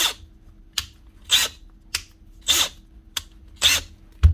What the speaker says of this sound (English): As soon as you pull the trigger hard, you hear a grinding sound.